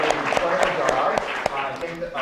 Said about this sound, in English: If you wouldn't mind giving Christine a round of applause.